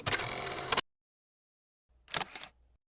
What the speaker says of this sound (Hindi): मैं इन लोगों के साथ थोड़ा सा फ़ोटो सेशन करने की कोशिश कर रही थी